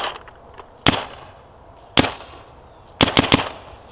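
Dye M3+ paintball marker firing outdoors: single sharp pops with pauses between, then a quick burst of three or four shots near the end, loud and close with no talking.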